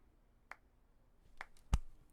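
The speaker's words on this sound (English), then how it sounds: "Golf clap." A slow, sparse golf clap from the video game 428: Shibuya Scramble: three separate, quiet hand claps spaced irregularly over two seconds, the last one sharpest and loudest, with near silence between.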